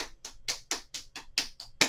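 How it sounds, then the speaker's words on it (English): Fingertips tapping during a gentle fall-prevention yoga routine, about nine distinct, evenly spaced light taps in quick succession, close and alone. "Tap, tap, tap the tips of the fingers."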